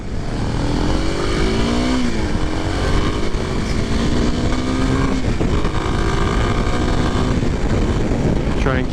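A 2023 Kawasaki KLX 300SM motorcycle rolls along at low speed, its engine droning steadily and loudly throughout with wind rush layered on top.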